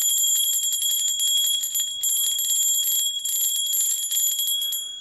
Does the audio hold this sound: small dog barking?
no